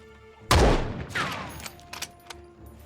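A single loud, close blast of video game machine-gun fire, then a decaying tail with a second softer report and a few scattered faint clicks and pops.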